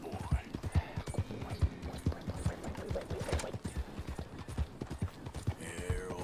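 Horse hooves clip-clop steadily at a walking pace in the video game Red Dead Redemption 2, close and distinct, with someone speaking briefly over the footsteps.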